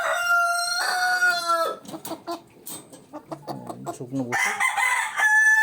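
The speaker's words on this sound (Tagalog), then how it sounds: "Oh, biganting manok to." Big jumbo backyard chickens, including a rooster crowing loudly up close at the start and again at the end, with clucking between and someone talking over them.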